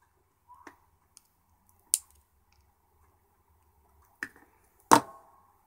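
Wire leads being snipped off a circuit board on a wireless FM microphone kit: a few sharp, close clicks of cutters spaced irregularly through near silence.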